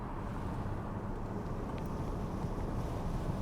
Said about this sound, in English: let's roll these windows up a little bit. You don't need all that wind.